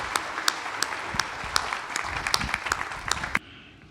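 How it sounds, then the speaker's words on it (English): A small audience at a faith and culture event claps to welcome a speaker to the podium, with scattered individual claps standing out before the clapping cuts off abruptly. "we can welcome him with a round of applause"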